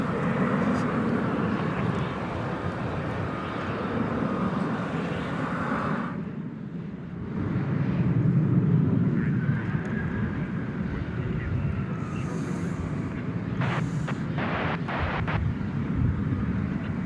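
An Embraer 170 airliner touching down at DFW at night on arrival from Midland, Texas, its broad engine roar steady and fairly close throughout, swelling briefly mid-landing, with a few sharp clicks near the end.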